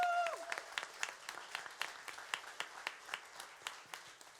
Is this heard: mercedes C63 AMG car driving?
no